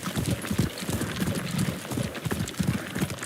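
A horse gallops in the samurai adventure game Ghost of Tsushima, its hooves drumming in a steady, fast, close rhythm over a rough ground rumble with no one talking.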